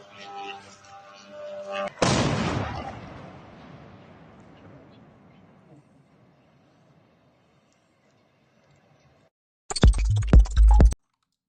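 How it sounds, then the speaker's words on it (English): A drone strike explodes at an oil depot, giving a sudden sharp blast that rolls out into a long fading rumble, preceded by faint mechanical noise and followed later by a burst of loud, harsh crackling. "we could hear the explosion after it hit"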